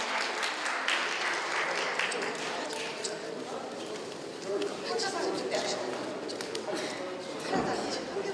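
An audience at an NGO broadcaster's opening ceremony and honorary appointment applauds, a sustained moderate wash of clapping across the room, with a voice speaking over it and a few sharper hits.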